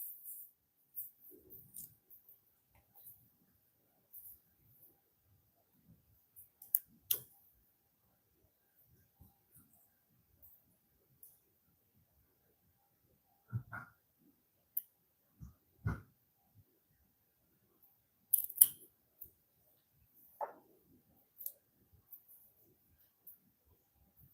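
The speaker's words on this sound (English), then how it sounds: "I'm just ripping out this top stitch because I don't want it to be such short stitches." A seam ripper picks out short top stitching on a vinyl tote connector: sparse, faint clicks and small scratchy snips scattered across a quiet room, with soft breathing-like rustles between them.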